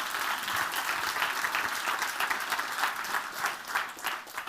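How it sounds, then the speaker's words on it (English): A theatre audience applauds steadily as volunteers walk up onto a stage for a pickpocketing act, a dense, even wash of many clapping hands lasting throughout with no talk. "But give them a nice round of applause as they join me on the stage."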